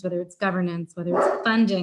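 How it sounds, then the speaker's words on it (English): A pet dog barks several times in quick bursts close by, loud and overlapping a voice speaking indoors. "Sorry about my dog."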